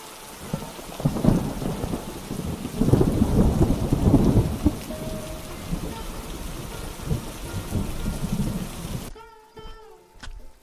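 Heavy rain pours steadily with deep rolling thunder swelling and fading several times, then the downpour cuts off abruptly near the end.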